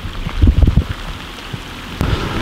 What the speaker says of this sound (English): It's just been raining all night, you guys.